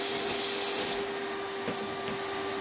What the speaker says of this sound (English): I'll just vacuum those right out.